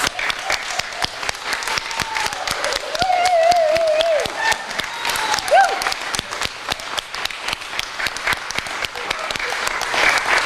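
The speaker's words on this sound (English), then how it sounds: "Please join me as you are able in an ovation for Mallory" A church congregation gives a standing ovation for Mallory Hicks at a Flower Communion service, with sustained loud applause from a crowd throughout and a few brief vocal sounds mixed in.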